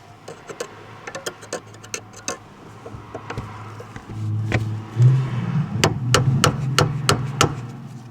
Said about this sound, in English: I think I'm going to use this flathead and hammer to knock it loose.